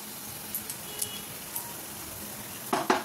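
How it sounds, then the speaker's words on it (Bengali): Whole garam masala spices sizzle softly and steadily in hot oil in a kadai, with a few faint crackles and two sharper spitting pops near the end. "এই যে কড়াই তেল গরম হয়ে গেছে, এতে অল্প একটু গোটা গরম মশলা ফোড়ন দেবো"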